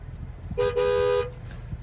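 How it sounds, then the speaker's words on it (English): A 2025 Chevrolet Silverado 3500 HD dual-rear-wheel Duramax truck sounds its horn from the driver's seat: one short honk, a brief gap, then a longer steady blast, loud and close over a quiet cabin. "There's the horn."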